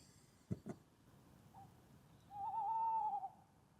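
An owl hooting outdoors before sunrise, a couple of soft low hoots near the start, then one longer wavering hoot, moderately near in a quiet setting.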